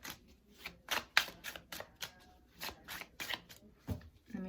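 Tarot cards being shuffled by hand in a series of crisp riffling bursts, each a short papery flutter, repeating in an uneven rhythm close to the mic with no talking over them.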